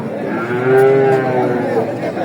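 A one-year-old Friesian heifer at a livestock market in Chandaikona, Sirajganj lets out a single loud, close moo lasting about two seconds.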